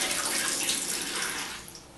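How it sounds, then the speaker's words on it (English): Water rushing and gurgling steadily as a hose siphons it out of a toilet bowl into a bucket during a Toto Neorest 500 install, a continuous close wash of flow that tapers slightly toward the end. "I've got a hose here that goes down and just sucks the water out"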